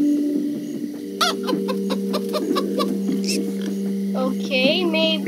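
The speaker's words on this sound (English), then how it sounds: "Yeah. A chicken." In the video game Minecraft Story Mode, a chicken gives a series of short clucks over a steady tonal game background, with a brief higher squawk near the end.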